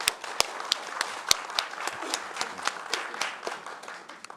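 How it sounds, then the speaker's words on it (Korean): A modest forum audience gives sparse applause, with scattered individual claps and a few sharp, loud slaps standing out over a light, uneven patter that fades near the end. "박수 부탁드리겠습니다."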